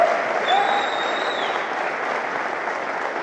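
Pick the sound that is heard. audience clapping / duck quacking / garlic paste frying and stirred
audience clapping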